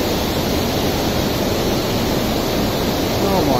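Water gushes steadily into a canal lock chamber through a broken paddle in Manchester's city centre, a constant broadband rushing roar that stays loud and unbroken throughout.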